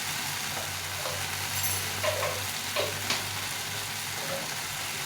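Fish curry spices with Kashmiri chili powder frying in oil for a spicy fish jhal, a soft continuous sizzle with faint stirring scrapes, close and unbroken, no voices.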